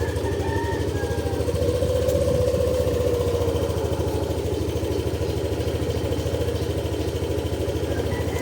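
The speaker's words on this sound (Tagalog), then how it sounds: "So paandarin natin saglit. Paabutin lang natin ng 80 Celsius yung kanyang makina." Yamaha Aerox SP motorcycle engine idling steadily after starting, a close, even mid-pitched putter with a constant thrum and no voices over it.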